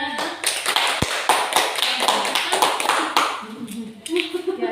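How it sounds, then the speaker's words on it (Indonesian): A group of teachers at a school training session applauds with lively, uneven clapping, moderately loud and close, with voices mixed in and a speaker resuming near the end. "Tepuk tangan semuanya"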